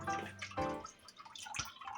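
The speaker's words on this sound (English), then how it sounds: "black eyed peas a final rinse." Black-eyed peas get a final rinse with water in a two-piece bowl, heard as close dripping and splashing with a few brief pours, no talking.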